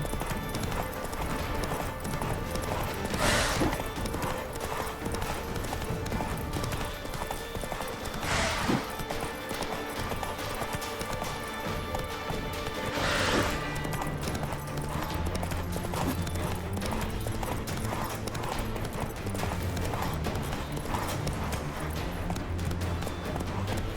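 Horse hooves clip-clopping at a run in The Witcher 3 video game, a steady rhythmic beat with a few brief whinny-like bursts and game music underneath, fairly loud throughout.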